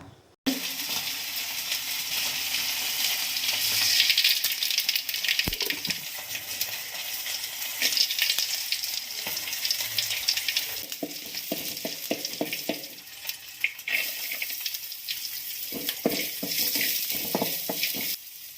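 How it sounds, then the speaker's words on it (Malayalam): Mustard seeds, dried red chillies and curry leaves fry in hot oil for tempering a pumpkin curry, making a loud continuous sizzle with crackles, broken by sharp pops and stirring clatter toward the end. "അതിലേക്ക് ഇനി നമുക്ക് കടുവ് വറുത്തിടാം"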